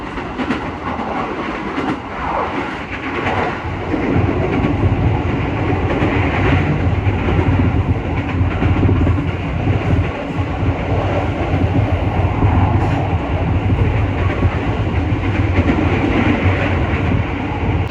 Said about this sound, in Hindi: सो ट्रेन जो है वो बिल्कुल चल पड़ी है